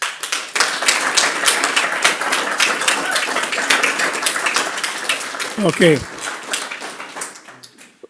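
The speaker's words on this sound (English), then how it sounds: "All the clapping is just gonna keep us here longer." Audience members clap at a regular city council meeting in Detroit Lakes, a dense run of claps from several people filling the room, with a brief spoken word near the end.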